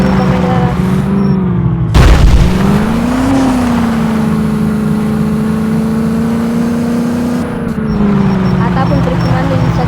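A modified Mahindra Scorpio drifting off-road, its engine droning loudly and rising in pitch, with a sharp thump partway through and someone talking over it.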